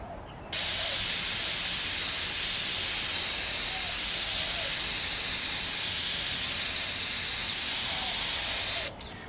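Airbrush spraying paint onto a portrait from about a hand span away, a steady, even hiss lasting several seconds that starts and stops abruptly, with no talking.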